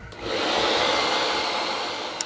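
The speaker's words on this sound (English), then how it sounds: "I'm gonna switch to voiceover here so you guys don't need to hear my blow dryer" A hair blow dryer fitted with a diffuser, used for styling curly men's hair, runs in a steady, loud, continuous whoosh from start to end, with no talking.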